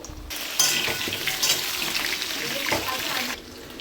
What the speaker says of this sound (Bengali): প্রথমে আলুগুলো বড় বড় করে ডুমো করে কেটে নিয়েছি এবার ভেজে নেব